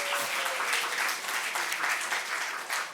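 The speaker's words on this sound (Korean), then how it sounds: "박수 한번 쳐주세요." Young adult audience at a winter youth camp worship session breaks into warm applause, steady clapping filling the room with a brief voice near the start.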